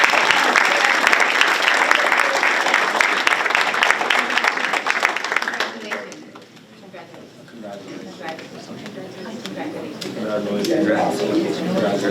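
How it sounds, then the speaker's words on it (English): An audience at a school board meeting applauds loudly for several seconds; the clapping then dies away and people talk and murmur in the room. "give these kiddos a round of applause"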